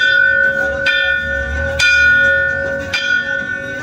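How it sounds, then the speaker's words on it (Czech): Bells ringing up close inside the bell tower of a modernist church near Quito, Ecuador, three separate struck tones spaced about a second apart, each leaving a long humming resonance. "Jsme ve zvonici kostela."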